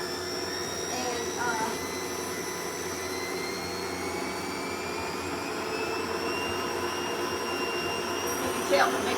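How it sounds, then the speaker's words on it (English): An electric mixer beats vanilla bean paste into a citrus loaf batter, a steady loud whirring drone that runs throughout, close up, with a small clatter near the end. "So we're just gonna beat that vanilla bean paste in there real good."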